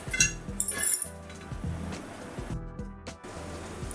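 Metal lid set down on a pot of cooking potato masala, with a handful of sharp close clinks and clatters over a low, steady rumbling bubble.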